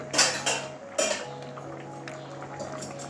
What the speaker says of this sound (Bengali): এবারে ডালটা নামিয়ে একটা বাটির মধ্যে ঢেলে নিচ্ছি